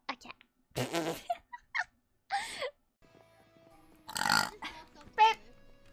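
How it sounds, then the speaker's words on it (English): A vtuber makes a string of short, rough burps close to the microphone, mixed in with some talk and squeaky vocal noises. "Burp. Burp up there."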